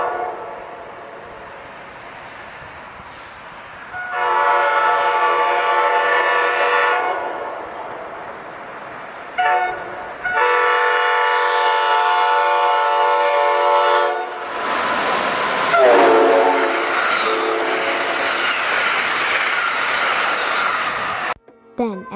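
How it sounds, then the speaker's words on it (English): Horn of an Amtrak AEM-7 electric locomotive blaring loud and close in several long sustained blasts, with short gaps between them and the final blast running longest before cutting off abruptly. "here's a video of how the horn would have sounded."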